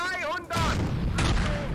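A StuG III C/D assault gun's cannon fires at point-blank range in a tank simulator, one loud close boom with a long rumbling tail and a second sharp crack, after someone speaks briefly.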